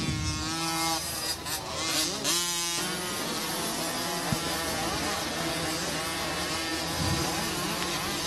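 Several small Micro 2 motocross bikes for riders aged four to six race around a dirt track at Loretta Lynn's, their high-pitched two-stroke engines whining and revving continuously at mid distance over a steady outdoor roar.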